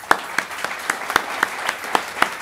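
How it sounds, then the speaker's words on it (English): Applause at an academic presentation session, heard as a rhythmic series of distinct claps over a softer bed of clapping, brief and fairly close. "A round of applause, please."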